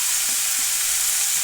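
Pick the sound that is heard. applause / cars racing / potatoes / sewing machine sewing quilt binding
potatoes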